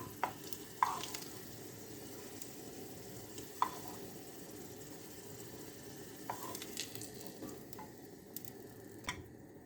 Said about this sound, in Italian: lascio rosolare un po', tolgo l'aglio